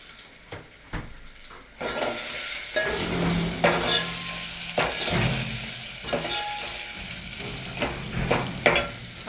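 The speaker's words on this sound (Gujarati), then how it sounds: "અને મિક્સ કરી નાખશું।" A spoon stirs a poha and boiled potato mixture in a pan, giving scraping, clattering strokes at an uneven pace over a soft background sizzle, nearby and with no talking.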